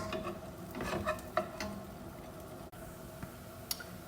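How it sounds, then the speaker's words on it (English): French toast sizzles steadily in a frying pan, a soft continuous crackle with scattered small pops and a couple of brief utensil taps, close by and fairly quiet. "sizzling quite a lot, because then we know that it's cooking on this side"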